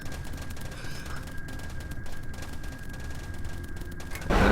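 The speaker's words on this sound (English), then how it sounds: "We'll just give it another attack run, I think, and just get a better demonstration of how not to attack a laser turret." Weapons fire rattles in rapid, dense bursts during an attack run on a laser turret in Kerbal Space Program, a steady crackling fusillade with a steady tone beneath and a louder boom at the very end.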